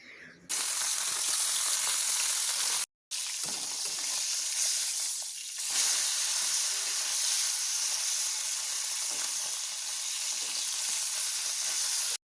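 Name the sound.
small fish (lote/shati) frying in a pan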